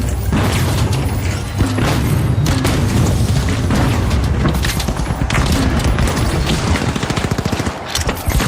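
A frag grenade blast in The Finals booms amid dense, continuous close-range gunfire and rapid machine-gun bursts, with a sharp rattling volley near the end; the whole stretch stays loud and chaotic.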